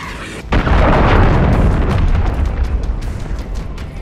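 A cruise missile blasts apart in a Call of Duty battle, one loud close boom that swells into a long rumbling roar and slowly fades over several seconds.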